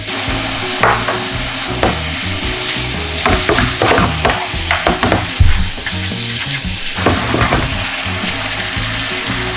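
Thin-sliced pork belly stir-fries with pepper, salt and minced garlic, giving a loud, continuous sizzle broken by repeated scraping and clattering stirs close by.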